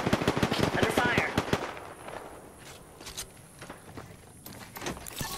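Rapid automatic gunfire in the battle royale game Apex Legends, a burst of sharp loud shots in the first second and a half, then scattered quieter impacts and faint game sounds.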